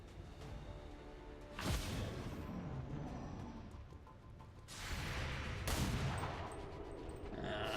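Pistol overwatch shots in XCOM 2, a few sharp gunfire bursts at moderate level over a steady game ambience, with no talking.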